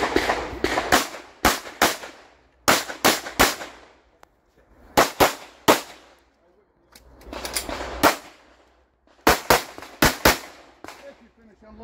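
Pistol shots at a USPSA shooting match crack out in rapid strings of three to five, loud and close, with short pauses between volleys and no voices heard.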